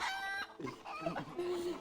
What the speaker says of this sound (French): t'es juste en train de faire voler des poules